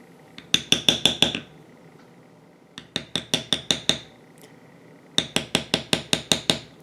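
Beveling tool tapped on leather while carving roses, three runs of sharp, evenly spaced metallic taps, each run holding five to seven close, crisp strikes with short quiet gaps between runs.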